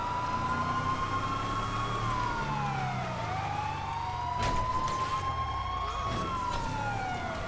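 A police car siren wails in the video game GTA 5, a steady rising and falling tone heard close and loud throughout, over engine rumble.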